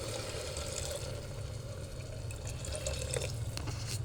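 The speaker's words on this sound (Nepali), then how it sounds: "यसमा अब हामी थोरै पानी हाल्छौँ," Water poured into a pot of soaked rice for egg biryani, a steady close splashing rush with faint drips, continuous and fairly quiet, with no voices.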